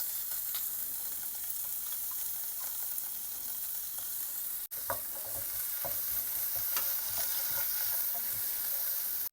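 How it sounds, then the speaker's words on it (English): Ginger garlic paste frying in a pan gives a constant bright hiss of sizzling, close and steady, with a few soft stirring clicks and a brief break partway through. "So I'm just gonna add ginger garlic, and then once it is cooked, then we'll add the red meat."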